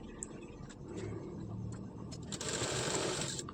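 A sewing machine stitches tucks on a blouse, its steady close whir running throughout with faint ticking clicks and a brief louder burst of speed near the end.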